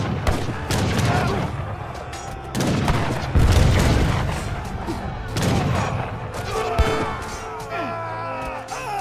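Explosions and cannon fire from the Age of Empires 3 campaign Blood, Ice and Steel crash in dense, loud bursts, several heavy booms following one another with a rumbling tail between them.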